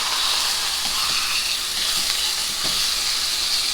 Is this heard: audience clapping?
no